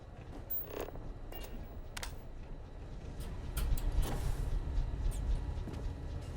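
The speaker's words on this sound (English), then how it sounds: "Oh, it's a door." A door in the video game Starfield creaks and grinds open with a low mechanical rumble that swells midway, scattered clicks and knocks over a steady ambient hum.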